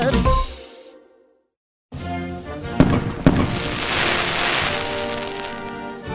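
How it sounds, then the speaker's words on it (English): Fireworks bursting outdoors during a summer celebration: after a short silence, a dense crackling barrage builds with sharp individual bangs, loud and continuous sizzling pops filling the rest. "the snap, crackle, pop of fireworks"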